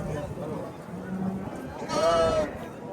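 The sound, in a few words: sheep bleating at a livestock market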